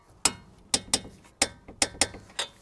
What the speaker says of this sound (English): And now we'll torque everything down, starting here with 65 foot-pounds.